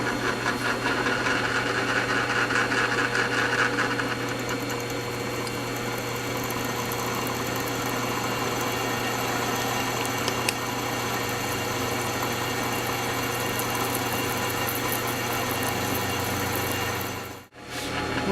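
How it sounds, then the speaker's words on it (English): A Porter-Cable drill press runs steadily with a constant motor hum and mid-pitched whine while drilling a hole with Ace drill bits in a workshop bracket project; sound is continuous and fairly loud, with a brief drop near the end. "I'm going to just use this quarter cable drill press"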